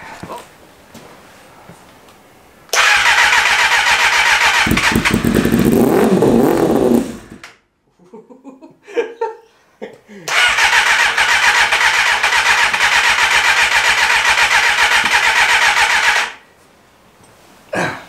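A Kawasaki ZXR250 250cc motorcycle under rebuild starts and revs loudly close by for several seconds, cuts out, then fires again and runs steadily before shutting off.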